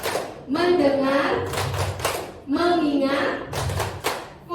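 During a teacher training session, a group of adults chants in unison while clapping in short, crisp bursts, the claps falling in regular clusters between the spoken lines.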